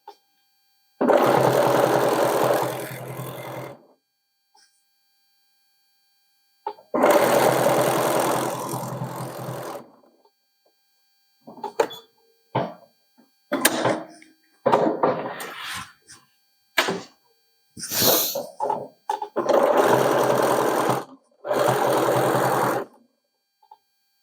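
A sewing machine stitches through the seam of a sherpa-lined coat in loud, steady runs of several seconds each, with shorter stop-start bursts and handling noises between them; there is no speech.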